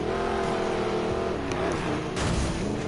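Car engine in a Need for Speed racing game, a sustained loud revving drone with shifting pitch and a brief rough, skidding burst near the end, no voices.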